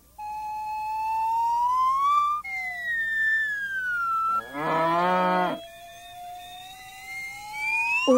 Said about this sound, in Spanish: Una vaca. A cow.